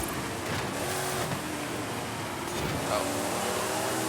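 Race car engines roar steadily in Forza Horizon 5, a dense continuous wash of engine and road noise throughout, loud and close, with faint speech possible underneath.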